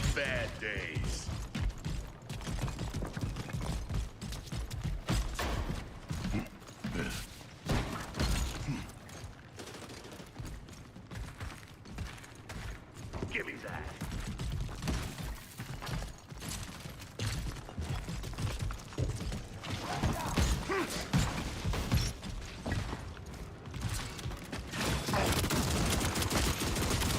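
Shotgun fire in a video game, with dense repeated blasts and mechanical clatter packed into a loud, busy mix of continuous action noise, while a player talks over it.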